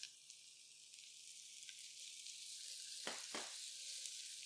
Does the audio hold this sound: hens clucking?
no